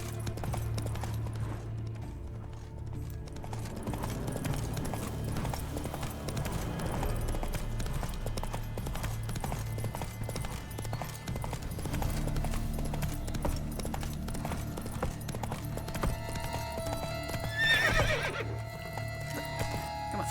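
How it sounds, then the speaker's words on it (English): Horse hooves galloping in The Witcher 3, a fast continuous clip-clop with a neigh near the end, loud and close over game ambience. "Horsey!"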